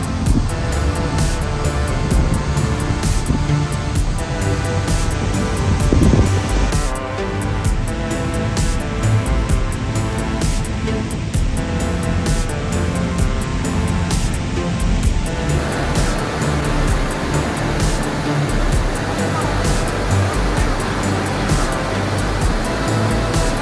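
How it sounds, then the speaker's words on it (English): Middle Falls, the tallest waterfall on the Genesee River in Letchworth State Park, roars in a continuous loud broadband wash of falling water, with wind buffeting the microphone and no talking. "Middle Falls is the tallest waterfall on the Genesee River at Letchworth State Park"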